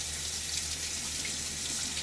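Tap water running steadily into a sink during a wet shave rinse, a constant close hiss and splash with no voices.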